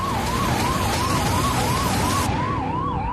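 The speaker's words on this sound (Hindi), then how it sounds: "जहां एक एम्बुलेंस बर्फबारी के चलते मुश्किल से निकल पा रही है।" An ambulance siren wails continuously in a rising-and-falling pattern as the vehicle pushes slowly through heavy snowfall in Bhalesa, Doda district, with steady engine and road noise beneath; the siren stays loud and close throughout.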